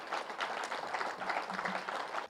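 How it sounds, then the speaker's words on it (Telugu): Audience applause at a youth motivational event in a hall, a dense, steady wash of many hands clapping together at close range, sustained throughout before cutting off. "చాలా చప్పట్లు"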